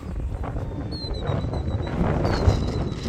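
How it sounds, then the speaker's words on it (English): Gusty wind at a remote-control model airfield buffets the microphone in a steady low rush, with a faint high whine of a small electric model plane in the background. "The wind was going to roll it over on me"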